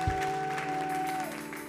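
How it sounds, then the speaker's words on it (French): A church congregation applauds and cheers in praise, a broad wash of clapping beneath a steady sustained keyboard tone that shifts pitch near the end. "Est-ce qu'on peut acclamer Jésus pour toutes les familles d'impact que nous avons en Bourgogne-Franche-Comté?"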